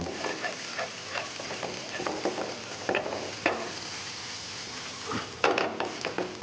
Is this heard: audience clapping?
no